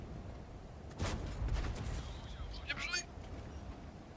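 A single heavy tank cannon blast in World of Tanks booms about a second in, followed by faint whistling chirps against a quiet background.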